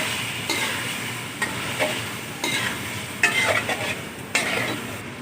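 Potatoes being stirred and mixed in a pot for aloo matar pulao, giving steady close scraping and stirring with a soft sizzle underneath and occasional sharper clinks of the spoon against the metal.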